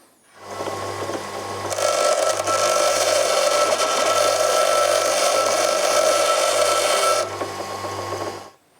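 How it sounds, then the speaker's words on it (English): A power tool grinds a taper onto the head of a bolt during a race car suspension rebuild, a loud steady whirring grind that starts abruptly, holds for about six seconds, and then stops. "So I'm still going to taper a little bit the head of the thread here."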